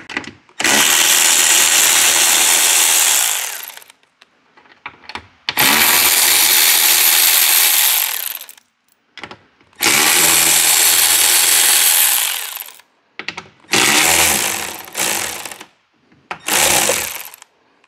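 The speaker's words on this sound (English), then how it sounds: "I will go ahead and grab a 10 millimeter for these, and we'll go ahead and get this old mirror off" Bursts of a power tool, likely an impact driver with a 10 mm socket, removing old mirror bolts from a 2018 Chevrolet Silverado 2500HD truck, several loud few-second runs separated by pauses and short blips, heard close up.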